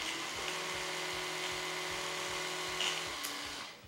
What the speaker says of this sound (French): ça fait du bruit mine de rien. C'est le problème des brosses à dents électriques